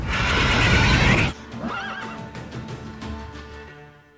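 A horse in The Witcher 3 lets out a loud, wavering neigh that rises and trembles, followed by hoof clatter and faint movement as the whinny fades.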